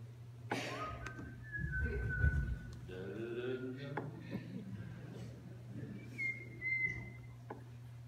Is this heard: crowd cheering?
no